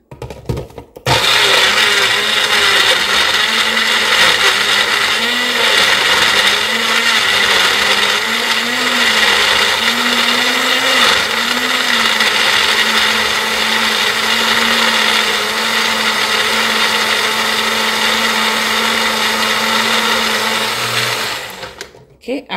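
An electric blender runs loud and steady for about twenty seconds, whirring through a thick herbal remedy mixed with honey syrup, its motor pitch wavering slightly before stopping.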